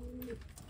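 A pigeon hen coos once, a brief low soft call heard close and faint.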